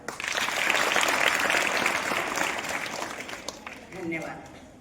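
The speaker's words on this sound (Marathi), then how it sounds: "याबद्दल तुमच्यासाठी टाळ्या वाजवा." An audience at a Marathi lecture claps together in loud, sustained applause that builds, holds for several seconds and then tapers off.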